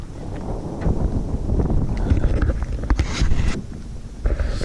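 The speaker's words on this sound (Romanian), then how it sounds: "Bate vântul, îmi cer scuze pentru sunet" Wind roars against an uncovered phone microphone on a selfie stick aboard a fishing boat at night on Lake Ecsed, a steady rumbling buffet with gusting swells and occasional rattles.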